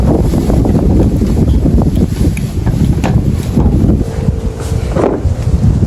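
Strong outdoor wind blows steadily and buffets the microphone, a loud continuous rushing roar that lasts the whole time with no voices over it.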